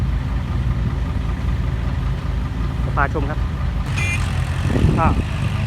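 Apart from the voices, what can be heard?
Hino 195 dump truck engine idling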